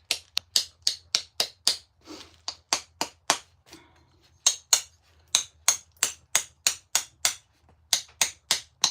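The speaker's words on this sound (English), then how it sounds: "Oh, I got to do a little bit of hammering." Sharp, crisp clicks of a hammer stone striking stone while knapping a stone tool, roughly twenty close strikes in a brisk, fairly even rhythm with a couple of brief pauses.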